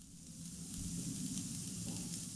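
Sacrificial meat (qurban beef) frying in a pan with salt, mushroom stock, pepper and sugar, giving a steady, close, moderately loud sizzle that holds evenly throughout with no talking.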